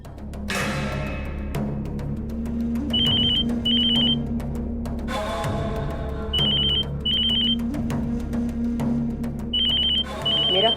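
A phone rings repeatedly with pairs of bright electronic ringtone bursts that recur several times over a steady background of low room sound and music, in a drama scene.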